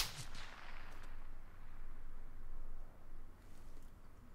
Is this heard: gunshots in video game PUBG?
yes